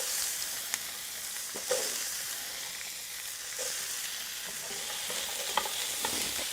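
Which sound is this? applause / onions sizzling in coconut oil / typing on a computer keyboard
onions sizzling in coconut oil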